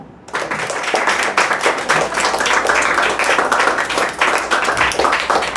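After a brief silence, a crowd at a CISF motivational speech breaks into vigorous group clapping, loud and continuous, the many hands blending into a thick, even wash of applause until the end.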